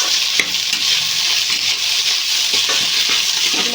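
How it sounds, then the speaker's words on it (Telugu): Rice fried with three eggs sizzles loudly and continuously in a pan while a spoon stirs it, adding scraping and tossing sounds close by throughout. "మంచిగా కలిపేసుకోవడం అండి రైస్ అయితే ఫ్రై అయిపోతుంది కదండి"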